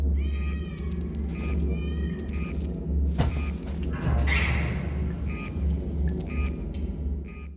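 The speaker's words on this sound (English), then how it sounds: "it makes sense that the sound of meowing has probably been heard like this before" A cat meows several times in the video game Alien Isolation, then is killed, with a sudden thump and burst of noise mid-clip over a low rumbling ambience.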